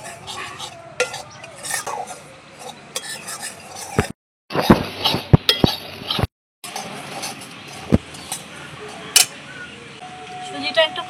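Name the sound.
semolina being dry-roasted and stirred in a wok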